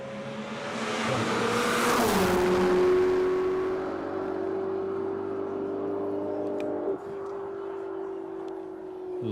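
Ferrari race car running on a track in a top-speed event, its engine note rising loudly as it approaches, then dropping in pitch as it passes and drones away, with a commentator talking over it.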